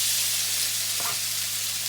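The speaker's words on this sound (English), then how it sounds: "the wok's now smoking. Just going to add the bacon in." Steady loud sizzling of bacon frying in a smoking-hot wok, a continuous hiss with a brief burst of crackle midway.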